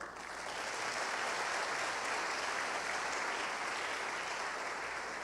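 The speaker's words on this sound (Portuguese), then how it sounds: "Pode aplaudir a Deus?" A church congregation at Paz Church Macapá applauds in a steady, dense burst of clapping that fills the room for several seconds, starting abruptly and holding at an even level without talk.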